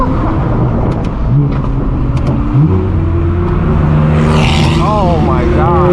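A race car accelerates hard on a public street during a hypercar rally. The engine is loud and close, with rising and falling revs over a constant roar of traffic.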